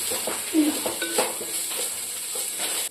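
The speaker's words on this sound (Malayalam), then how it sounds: "ഇഞ്ചി വെളുത്തുള്ളിയുടെ ഒക്കെ പച്ചമണം ഒന്ന് മാറണം കേട്ടോ. അതുവരെ ഒന്ന് വഴറ്റിയെടുക്കാം." Crushed ginger, garlic and green chili sauté in a pan for fried chicken biryani, a steady close sizzle with stirring scrapes and light utensil clinks, ending abruptly.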